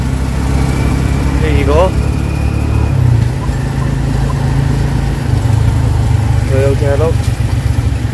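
Busy street traffic in Phnom Penh, Cambodia, near the Russian Market: motorbike and car engines rumble close and constantly as vehicles pass, while someone talks over the din.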